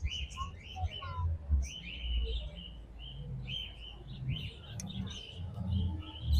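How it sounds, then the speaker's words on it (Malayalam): Lovebirds chirp in a bird enclosure at a flower show, bright repeated tweets and calls scattered through the clip over a low rumble of crowd and wind noise. "ലവ് ബേർഡ്സ് ആണ്."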